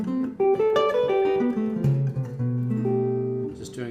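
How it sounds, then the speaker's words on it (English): A Korean Samick JZ 2 L5-size guitar plays quick, flowing diminished arpeggio runs, notes climbing and descending in a rapid, continuous stream, clear and close. "Sometimes I'll do a couple diminished arpeggios before the augmented sound like this."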